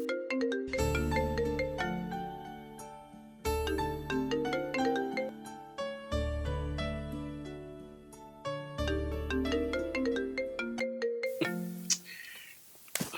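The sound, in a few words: mobile phone ringtone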